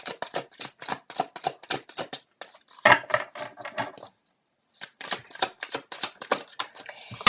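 Tarot cards shuffled by hand in a rapid run of crisp riffling flicks, a short pause, another burst, a moment of silence, then the brisk shuffling resumes close and clear.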